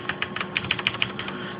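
Rapid, fairly even keystrokes on a CM Storm QuickFire Rapid mechanical keyboard with soft Cherry MX Red switches, close and clear with no voices, about a dozen light clacks in quick succession.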